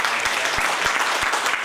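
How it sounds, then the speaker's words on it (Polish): Concert audience clapping for an accompanist at a sung-acting showcase, a dense, loud, continuous burst of applause from many hands with a few heavier thuds scattered through it. "Oczywiście ja też tutaj chciałbym brawa skierować do drugiego akompaniatora."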